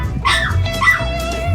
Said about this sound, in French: Je mets l'aboiement du chien.